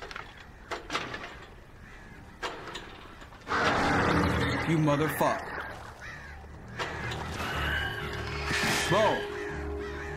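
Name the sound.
crows cawing in the video game Alan Wake Remastered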